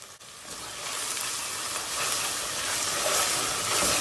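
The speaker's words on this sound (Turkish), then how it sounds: "İyice bir salçamızı karıştırıyoruz, soğanlarımızı karıştırıyoruz." Tomato paste, onions and a spoonful of flour sizzle steadily in a pan over medium heat while being stirred, a continuous close frying hiss that swells slightly toward the end, with no talking.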